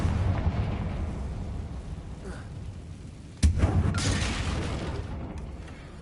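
A Confringo spell blast from the video game Hogwarts Legacy: one sharp, loud explosive boom partway through, with rumbling game effects and noise around it.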